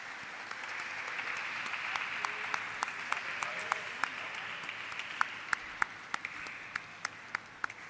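An audience at a stock listing ceremony applauds, a sustained even wash of many hands clapping in a large room, with several louder individual claps standing out near the end.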